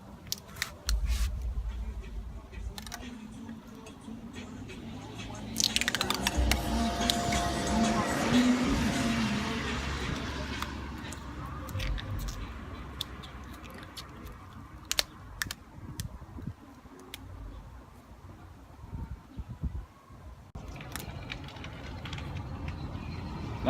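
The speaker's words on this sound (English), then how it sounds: "you can simply pull it, and it will rip off" A rubbery Plasti Dip coating is lifted with a toothpick and pulled off a surface, giving a long, drawn-out peeling tear midway, framed by scattered small clicks and handling noises close by.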